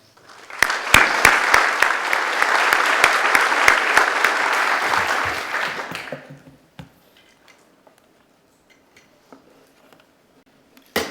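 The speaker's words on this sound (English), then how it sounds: "So please, a warm round of applause for our final speaker before the break, Kishin Rong." A conference audience applauds steadily for about six seconds at full volume, then the clapping fades out into a quiet room with a few stray taps.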